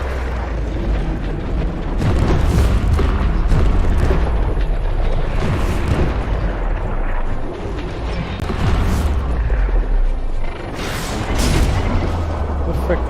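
Rocket blast in the post-apocalyptic kung-fu RPG Biomutant: a series of loud, deep booming explosions rolls on continuously, heavy rumble swelling and fading in several bursts, with game music and effects layered underneath.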